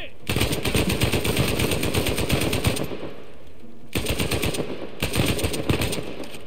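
Gunfire in the Uncharted 4 video game pours out in dense, rapid bursts that are loud and close, with a brief gap between two long volleys and some voice underneath.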